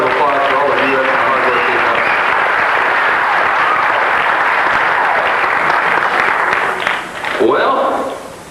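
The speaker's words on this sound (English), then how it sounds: "Let's have a big round of applause for all the Vuettes" Loud, dense audience applause for the Vuettes at a 1985 revue show, a sustained roar of many hands that holds steady, then fades toward the end as a voice briefly cuts through.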